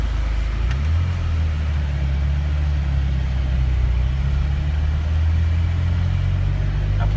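A lifted Jeep Wrangler JK with manual transmission drives along, its engine a steady low rumble with road noise held at an even level throughout, heard from inside the cabin.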